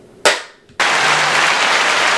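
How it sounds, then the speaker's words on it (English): A single sharp hand clap from a volleyball podcast's producer, crisp and close, followed after a short gap by a sustained broadband burst of noise. "That's a clap via our new producer of the show"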